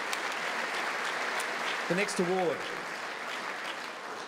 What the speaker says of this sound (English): Another big clap, ladies and gentlemen, please.